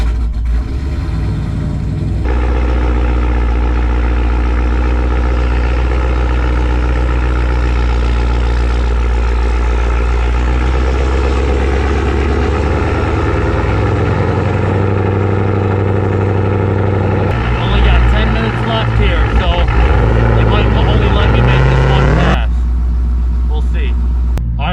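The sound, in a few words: Ford Explorer ST engine at full throttle on race tune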